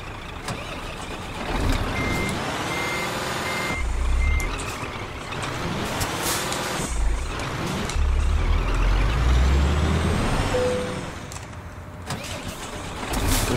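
Reversing beeps from a truck in the Euro Truck Simulator 2 video game repeat steadily over a running engine, with a few loud air-brake hisses and low rumbles along the way.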